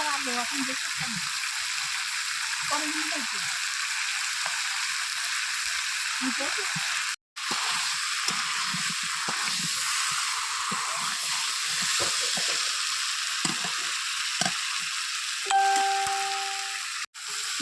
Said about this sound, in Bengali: এবার এর মধ্যে ভেজে রাখা আলুগুলো দিয়ে দেবো।